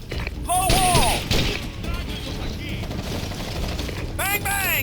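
Bursts of gunfire from the video game Ghost Recon Advanced Warfighter 2, during a fight to secure a bridge, crackle steadily under loud battle noise and whistling tones, mixed with shouting voices.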